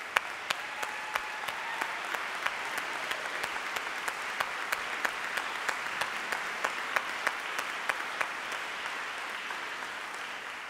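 Award winners at an honors convocation receive a steady round of audience applause, a dense wash of many hands with occasional sharper individual claps standing out, sustained evenly for about ten seconds with no talking.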